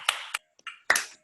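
Scattered hand claps from online meeting participants, a few sharp, separate bursts with short gaps between them, thin and close as if picked up through laptop microphones.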